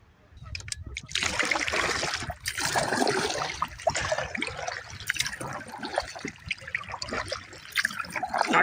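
A canoe is paddled hard through choppy, wind-driven waves in cold wilderness, giving continuous close sloshing and splashing water with repeated paddle strokes and spray, loud and busy throughout.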